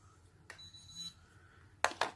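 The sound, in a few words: FreeStyle Libre reader alarm when scanning an expired sensor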